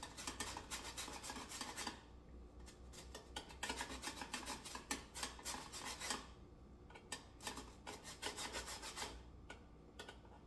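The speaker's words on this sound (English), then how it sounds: "I'm going to grate about 1/2 teaspoon of the lemon zest" Lemon peel rasped against a grater into zest, rapid rough scraping strokes in quick bursts with brief pauses near 2, 6 and 9 seconds, close and crisp, no voices.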